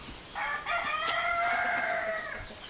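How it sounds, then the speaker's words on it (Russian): A rooster at a zoo crows once in a long, drawn-out call, loud and close, with a rising start and a sustained, slightly falling end. "тут ходят петухи, простые курицы и петухи"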